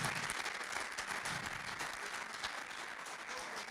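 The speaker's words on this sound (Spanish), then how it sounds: "Dele fuerte ese aplauso al Señor." A church congregation clapping steadily, a dense, even round of many hands that holds at a consistent, moderately quiet level for nearly four seconds without talk over it.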